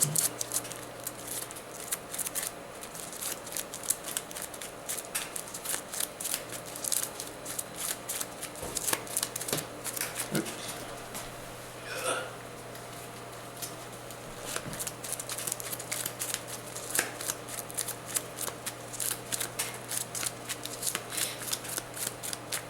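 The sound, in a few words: shuffling a deck of cards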